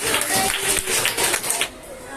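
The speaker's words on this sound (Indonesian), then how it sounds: "Tepuk tangan buat Bakti Arsanet" A classroom audience gives a short round of applause for a student group, dense clapping for under two seconds before it fades out.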